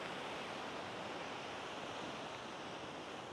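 Atlantic Ocean surf at a Charleston beach rushes in a steady, broad wash of breaking waves, constant and fairly loud with a windy hiss and no voices.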